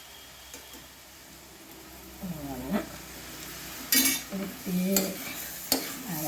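Kothu parotta tossed and stirred with salna in a hot pan, giving scraping stirs and soft sizzling in uneven bursts, with a few sharp clinks of the spatula against the metal.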